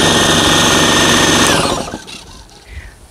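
A vortex air tool powered by a Ridgid 4.5 air compressor runs with a loud, harsh rapid rattling buzz for about a second and a half, then winds down and fades to quiet clunks.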